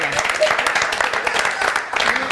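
A television studio audience applauds on a Portuguese morning show, a dense burst of clapping that runs loud and continuous, with a presenter's voice speaking over it.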